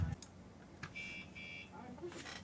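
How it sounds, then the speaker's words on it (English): An alarm goes off with two steady, high electronic beeps, each lasting about a third of a second with a short gap between them, over a quiet room hum with faint background noise. "I forgot to turn the alarm off."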